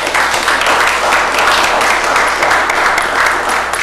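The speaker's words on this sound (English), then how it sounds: "Can we give them a round of applause?" Audience applause fills a city council meeting in Bastrop, Texas, a steady dense wash of many hands clapping throughout, loud and continuous with no pause.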